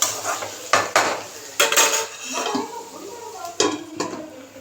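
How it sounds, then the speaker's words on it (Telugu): Salted masala gravy for a broad bean curry is stirred and fried in a pan, with repeated loud scrapes and clanks of a spoon against metal over a soft sizzle, close by. "అందులో ఇప్పుడు గ్రేవీకి తగ్గ సాల్ట్ యాడ్ చేసుకొని బాగా ఫ్రై చేసుకోవాలి."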